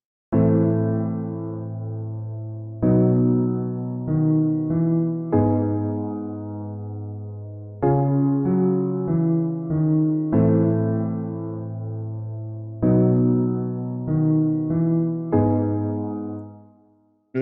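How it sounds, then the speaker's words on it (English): Reel-to-reel piano sample from the Decent Samples library, playing slow sustained chords and note groups in a calm repeating phrase, each decaying warmly before the next, alone. "this is called a reel-to-reel piano"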